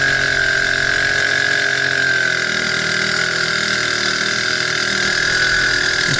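A 2-horsepower outboard engine drives a rubber boat that tows a sea anchor, droning steadily and loudly at close range with no one speaking.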